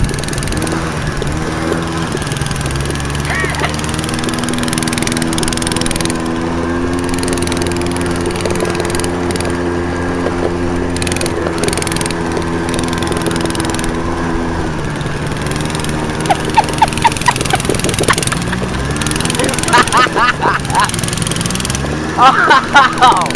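A minibike engine with hardly any muffler runs loud and close, a raw buzzing drone throughout that rises with throttle blips toward the end. Voices can be heard faintly in the background.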